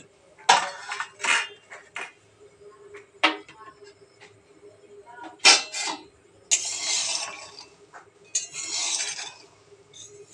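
Peanuts being dry-roasted in an empty wok, stirred with a metal spatula that scrapes and clinks against the pan in irregular bursts, with a faint steady hum underneath.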